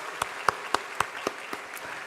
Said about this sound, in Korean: 찬양의 박수 드리겠습니다